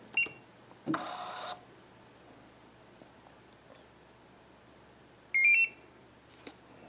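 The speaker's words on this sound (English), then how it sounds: "The beep means it's completed the transaction." A Pax S500 card payment terminal set up for restaurants gives short electronic beeps, one near the start and another after a quiet gap, with a brief burst of printer-like whirring between them.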